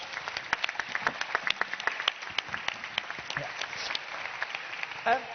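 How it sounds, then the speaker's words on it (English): An audience at a vocational education forum breaks into a round of applause for three speakers, a lively mass of overlapping claps heard at moderate distance, steady for several seconds before tapering. "Can I get a big round of applause for Manuela Geleng, Jean-Yves Ripoteau, and Ricardo Lamadrid"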